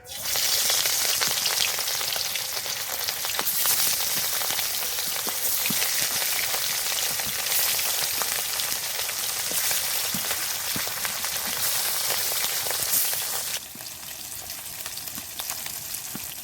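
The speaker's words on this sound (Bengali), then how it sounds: "এবার মাছগুলো দিয়ে দেব তেল গরম হয়ে গেছে" Pieces of rohu fish, marinated in turmeric, fry in hot oil in a wok with a loud, continuous, crackling sizzle close by that drops somewhat in level near the end.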